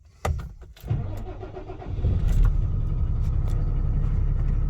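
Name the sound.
18-ton truck starting to drive off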